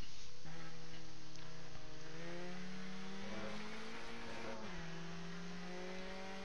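Race cars lapping in the Automobilista sim at VIR South during a Rookie Cup round, a loud continuous engine drone rising in pitch through upshifts and shifting as cars pass, with no talk.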